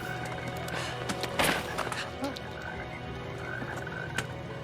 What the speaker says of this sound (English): Mulder, toads just fell from the sky.